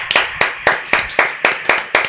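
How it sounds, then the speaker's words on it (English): A few people clap to welcome a guest, about nine crisp, evenly spaced claps ringing close and sparse in a small room, with no voices over them. "That's 3 people clapping"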